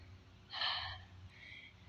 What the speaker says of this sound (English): Why I'm out of breath?